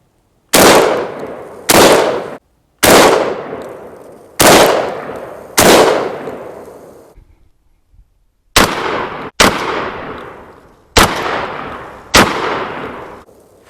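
A Rock Island Armory VRF14 semi-auto 12 gauge shotgun fires 2 3/4 inch slugs: five loud, sharp blasts with ringing decay, a brief pause, then four more shots, close and without talk.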